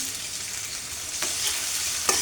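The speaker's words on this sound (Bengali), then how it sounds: "তেল গরম করে নিচে একটি কড়াইতে এখন পেঁয়াজ দিচ্ছি" Oil sizzles steadily in a kadai as onion, ginger and garlic paste fry, with a couple of soft stirring scrapes; no talking.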